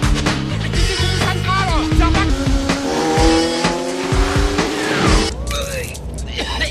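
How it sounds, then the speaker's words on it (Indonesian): A film car chase: engines roar loudly up close while tires squeal in repeated rising and falling screeches, with skids and mechanical clatter, under a narrator speaking. "ia menyalakan mobil dan kejar-kejaran pun dimulai"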